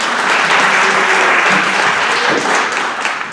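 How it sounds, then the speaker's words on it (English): A large audience at an immigration discussion event breaks into loud, dense applause that holds steady throughout. "round of applause"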